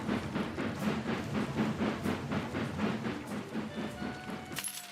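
A video-game train runs along the tracks with a steady rhythmic clickety-clack and hissing rumble, a repeating beat carrying on throughout and fairly loud, with a brief sharper noise right at the end.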